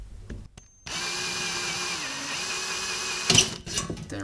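A power drill bores out loose rivets on a Portal mod, starting with short bursts, then a sustained high whirring spin that bites harder near the end with a louder grinding surge.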